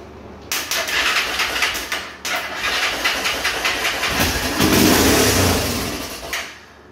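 A freshly rebuilt Honda 300EX ATV engine runs rough on its own fuel tank, a loud close mechanical roar with hissy texture that rises and swells midway before cutting off.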